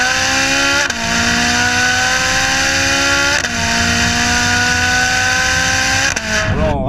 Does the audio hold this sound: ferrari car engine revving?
yes